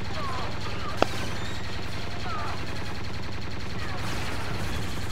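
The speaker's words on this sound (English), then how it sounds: "I like the new gun sounds." Modded blaster gunfire from Star Wars Battlefront 2 rattles in a continuous rapid burst from start to end, with one sharp crack near the first second standing out above the steady stream.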